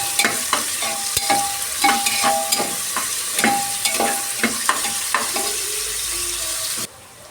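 Bay leaf and onions fry in oil while being stirred, a constant sizzle under rhythmic clinks and scrapes of a spatula against the pan, close by, before the sound cuts off abruptly near the end.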